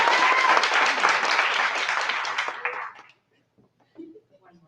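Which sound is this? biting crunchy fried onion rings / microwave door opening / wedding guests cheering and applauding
wedding guests cheering and applauding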